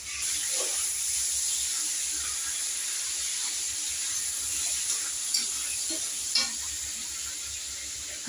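Five-spice tempering (panch phoron) crackling in hot oil with dried and green chillies and ripe tomato, a continuous bright sizzle with a couple of small pops and faint utensil taps, no talk.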